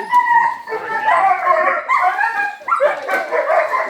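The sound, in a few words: dogs barking and howling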